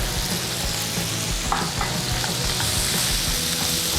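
Ground pork seasoned with cumin, oregano and onion powder fries loudly in a pan, a dense, constant close sizzle with rhythmic stirring scrapes and no voices.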